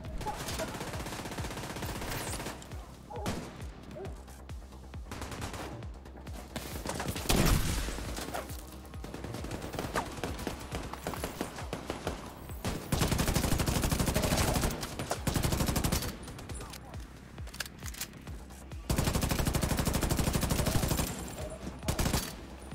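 Gunfire from the video game The Division 2: Warlords of New York rattles in long automatic bursts and scattered shots, sometimes near and loud, sometimes dropping back, across an ongoing firefight with occasional louder blasts.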